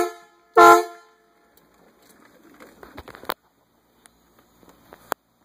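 A single loud, brassy blast from an on-board air horn on a custom vehicle, close by and lasting about half a second, followed by quiet rustling and clicks.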